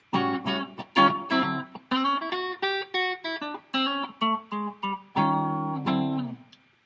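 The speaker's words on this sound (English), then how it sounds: "Clean channel, no effects run in it. I could put a little bit of reverb" Clean electric guitar through a Line 6 Firehawk FX, no effects but a little reverb, playing a sequence of plucked notes and chords, each ringing briefly with a soft reverberant tail.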